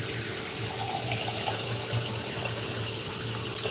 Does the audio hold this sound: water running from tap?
yes